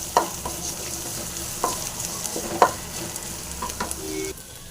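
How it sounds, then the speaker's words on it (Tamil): Onions frying in a pan with salt, for a drumstick-leaf stir-fry, give a steady sizzle broken by a few sharp scrapes and clacks of a stirring spoon, close and moderately loud, with no talking. "வெங்காயம் நல்லா ஃப்ரை ஆகிட்டு வருது"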